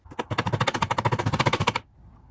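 Rapid hammer blows on the vent window hardware of a 1973-1987 Square Body Chevy Silverado, a fast, even run of about twenty loud metallic strikes close by, then stopping.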